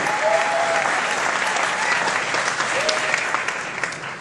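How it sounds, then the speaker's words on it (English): A community event crowd in Moyvane applauds an MC's introduction of a local builder, steady dense clapping filling the full clip with a few brief voices and whoops rising over it. "James, give him a big round of applause."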